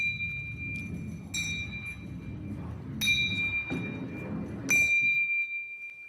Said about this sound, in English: we should hear the bells ringing at equal intervals in time